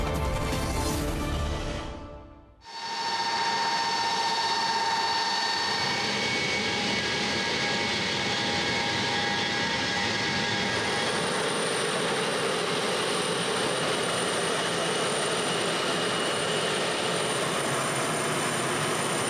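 A passenger airplane comes in on the runway, with a steady, loud jet roar and broad engine rush that sustains after a brief cut, no voices over it.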